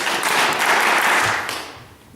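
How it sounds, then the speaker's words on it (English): An audience at a stage performance claps together in a brief, full burst of applause that holds steady, then fades out quickly. "if you wouldn't mind clapping after me"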